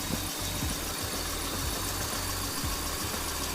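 An aging Hyundai Accent automatic idles smoothly under an open bonnet, a steady low, even hum heard up close with no talking.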